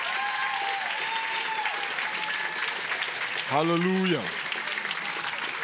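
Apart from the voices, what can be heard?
congregation applause for fathers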